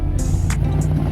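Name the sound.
car driving at a car show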